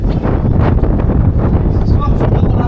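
Strong wind buffets the microphone outdoors on a mountain trail, a loud continuous low rumble with gusty surges throughout.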